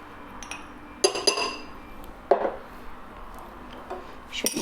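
Tahini and sugar being scraped and stirred in a bowl, heard as a few distinct clinks and scrapes of a utensil against the bowl over a quiet background.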